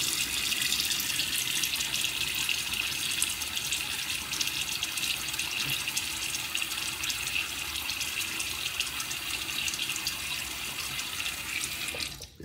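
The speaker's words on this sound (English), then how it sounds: "Let me get my face wet" Tap water runs steadily into a bathroom sink while someone wets their face, a continuous close hiss and splash that cuts off at the very end.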